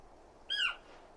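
A single short bird call from a bird in Final Fantasy XVI, a bright chirping squawk over quiet ambience, close and clear with nothing else around it.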